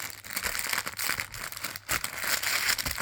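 Plastic wrapping crinkles and rustles continuously as a parcel is opened by hand, close and fairly loud, with dense crackling bursts throughout and no talking.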